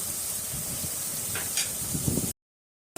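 A steady, close hiss of spices and tomato sizzling in hot oil for tempering, with a few soft stirring scrapes, then a sudden cut to silence.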